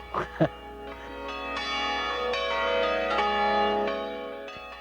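Church bells ring out in a rich, sustained peal, their overlapping tones lingering and blending, after a couple of brief knocks at the start.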